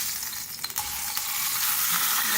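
Marinated fish heads frying in oil on a flat tawa, a loud continuous sizzle with a couple of brief clicks and scrapes early on.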